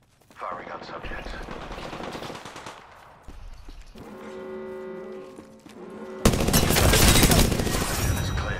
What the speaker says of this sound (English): Taking fire. Firing on subjects.